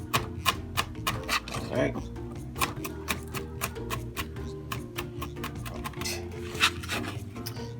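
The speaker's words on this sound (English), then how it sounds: "Cut it real small pieces." A knife chops a banana pepper into small pieces on a cutting board, giving a rapid run of close, sharp taps with brief pauses. A voice speaks briefly over the chopping.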